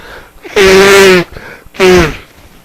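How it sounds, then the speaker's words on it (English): A person sneezes twice in quick succession, two loud, close, sharp bursts separated by a brief breathy pause. "I just sneezed the shit right out of my goddamn fucking head."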